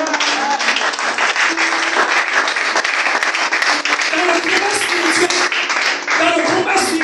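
A church congregation at a Sunday service claps and applauds in a dense, sustained wash of hand claps, loud and continuous, with voices mixed in.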